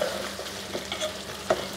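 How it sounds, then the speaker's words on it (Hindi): A spoon stirs vegetables into potatoes frying in a pan, making scraping and clacking sounds with a few sharp knocks over a steady sizzle. "सब्ज़ी को अच्छी तरह से हमने आलूओं में मिक्स कर देना है"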